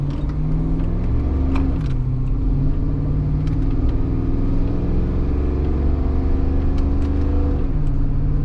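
A Saab car engine rumbles close by at a low, throaty idle and rises in pitch a couple of times with light revving. Small clicks and knocks sit faintly over the steady drone.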